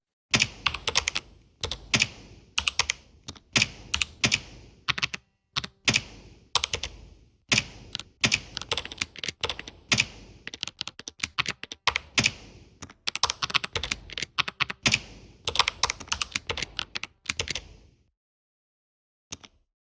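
CSS code is typed on a computer keyboard in quick clusters of crisp key clicks separated by short pauses, close and clear for most of the time before the typing stops near the end.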